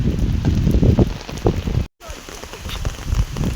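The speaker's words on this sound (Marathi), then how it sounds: "भरपूर पाऊस आला आहे" Heavy rain pours steadily outdoors at a riverside village fishing spot in Maharashtra, a dense continuous hiss with a brief cut partway through.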